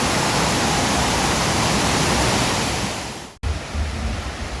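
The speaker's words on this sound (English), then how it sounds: "I'm not sure if you can hear the rushing of the water" Broadband rush of a stream's flowing water near a picnic trail by a village of huts, loud and steady throughout, with a brief dropout near the end before the constant rushing resumes.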